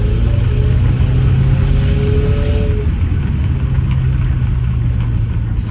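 A Mercedes-Benz W202 C180 with a faulty exhaust pulls away under acceleration, giving a loud, steady, close engine drone with a coarse, blatting exhaust note that shifts slightly in pitch as the revs climb.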